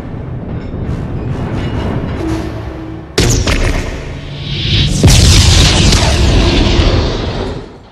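An M79 grenade explodes in an action scene from the film Terminator 2, a sudden loud boom that cuts in about midway, followed by a second roaring blast that fades over several seconds, with dense rumbling before it.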